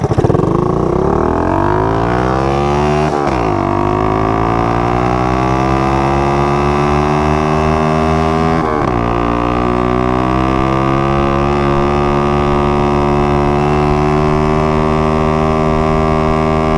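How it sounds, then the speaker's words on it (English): Two Honda CT70 mini bikes with 140cc engine swaps drag race, their small engines revving hard and climbing in pitch together, with a brief drop and second rise as the shifts come; loud and continuous throughout. "So we're gonna do a quick drag race to show you just how much faster it is."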